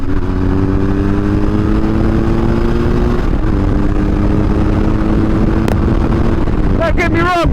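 BMW R 1150 GS motorcycle engine running close by, a loud steady idle with a low throbbing drone, ending in a few quick revs.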